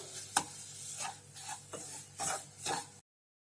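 Sliced banana and semolina are stirred in a pan for a sweet halwa, heard as a handful of quiet, close scraping and rubbing strokes over a soft sizzle, followed by sudden silence.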